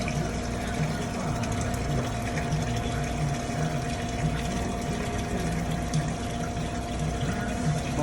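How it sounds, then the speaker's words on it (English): Water drains steadily through the open valve of a Brinkley Model G 3500 unit, a constant rushing, gurgling flow with a faint pump-like hum underneath, running unbroken for the whole stretch. "So right now it's draining because it's in the open position."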